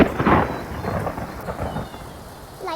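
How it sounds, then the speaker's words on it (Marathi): Heavy rain pours steadily while thunder rumbles loud and close, rolling on for a couple of seconds beneath the constant wash of the downpour. "हा पाऊस थांबतच नाहीये."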